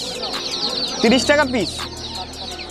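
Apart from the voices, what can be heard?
Australian chickens clucking at a market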